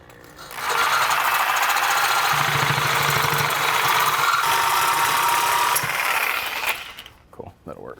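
A power cutting tool grinds and buzzes through a metal exhaust pipe on an 80 Series Land Cruiser in one long loud burst, then cuts off abruptly at the end.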